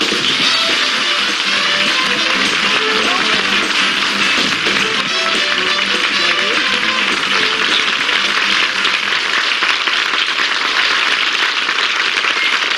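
A 1972 television studio audience gives sustained, hearty applause for a guest. The dense, even clapping holds at full loudness throughout, with a faint voice underneath.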